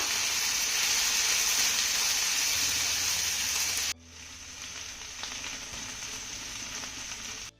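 A paste of garlic, green chilli and cumin sautés in a pan with a loud, steady hiss that drops abruptly halfway, leaving a quieter sizzle with faint stirring.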